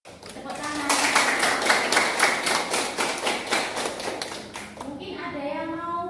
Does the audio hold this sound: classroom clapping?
yes